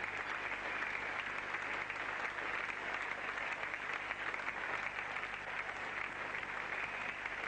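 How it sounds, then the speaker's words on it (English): Applause from the West Indian players on the field during a 1980 England versus West Indies Test cricket match, a steady, distant patter of clapping over broadcast hiss with no talk. "And applause there from the West Indian players"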